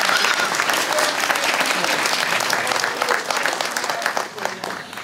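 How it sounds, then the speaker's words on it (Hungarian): Parents at a school graduation ceremony burst into loud, dense applause, with many hands clapping continuously in a packed space before the sound tapers slightly at the end. "Én nagy tapsot kérek a szülőktől."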